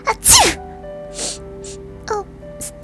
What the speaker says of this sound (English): A small sneeze knocked him from the story.